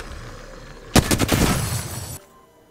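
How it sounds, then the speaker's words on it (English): A sudden burst of rapid gunfire in Apex Legends, several sharp cracking shots in quick succession at close-to-mid range, then it cuts off abruptly into quiet. "I can hear that gunfire."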